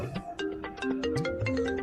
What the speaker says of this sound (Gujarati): આ વળી કોનો ફોન આવ્યો?